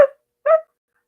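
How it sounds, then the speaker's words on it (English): A dog somewhere in the distance gives two short barks spaced about half a second apart, with nothing else heard around them. "a dog in the distance began barking."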